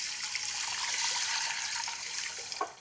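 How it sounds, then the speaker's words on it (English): Cold water poured over lentils in a pressure cooker, a steady close splashing rush that fades near the end with a brief final splash, no talking. "We'll cover this with some cold water."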